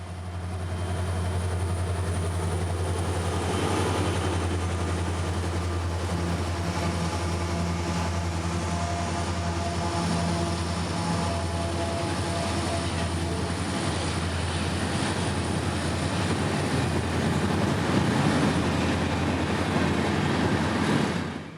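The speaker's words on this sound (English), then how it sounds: "with this speed and his massive 200-car train behind, it would take 8 minutes for 603 to clear our post" A slow, 200-car mixed freight train, number 603, rumbles past under a loud, steady low engine drone, with faint wheel and car noise running continuously throughout, close by and without talk.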